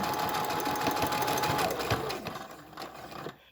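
Sewing machine stitching the seam of a patio cushion, a loud, fast, steady mechanical whir up close that slows and stops near the end as the corner approaches.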